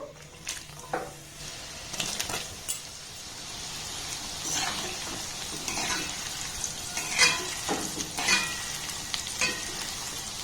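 Oil sizzling and bubbling as rice-flour dumplings deep fry, with occasional stirring scrapes and clinks of a utensil against the pan.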